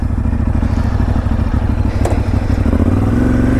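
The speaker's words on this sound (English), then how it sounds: "let's hear that Ducati sound again" 2010 Ducati 848 motorcycle engine firing up, a loud close mechanical clatter settling into a lumpy, rapid idle with a slight rise in pitch near the end.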